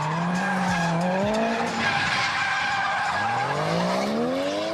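A car drifting through an illegal street race in Tokyo: sustained, wavering tire squeal and rising and falling engine whine that run loud and close throughout, with no voices.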